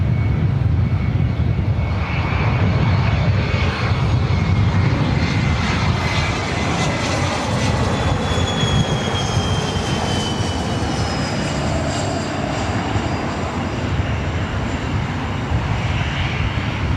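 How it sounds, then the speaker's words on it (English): A corporate jet arriving at LAX from Van Nuys on a windy day. Its engines give a loud, continuous roar with a rising whine, sustained throughout with no voices. "Next up is that corporate jet coming in from Van Nuys."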